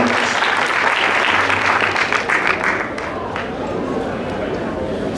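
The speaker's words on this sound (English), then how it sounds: "Let's give the women a big round of applause one more time." A crowd gives a big round of applause that fills the first three seconds, then thins and fades into a quieter room murmur.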